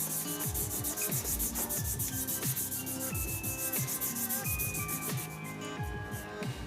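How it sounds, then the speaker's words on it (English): Micro mesh pads hand sanding a resin and wood shaving brush on a lathe, a close, rhythmic rasping scrub of repeated back-and-forth strokes with a faint steady hum underneath. "I'm just going to give it all the hand sand in different directions again now"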